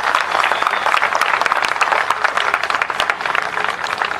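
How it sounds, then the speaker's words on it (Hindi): Audience applause at a ceremony honoring a martyr's family and a Sena Medal recipient, a dense, steady wash of many hands clapping loudly for the full stretch. "जोरदार तालियां बजाइए"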